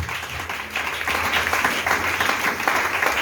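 A church congregation applauds during a sermon, a dense, loud wash of clapping and cheering voices that swells and holds for a few seconds.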